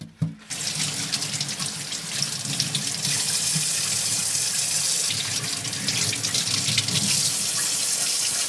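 A kitchen tap turns on and runs hot water in a strong, continuous stream, splashing and hissing against the sink basin with no talking.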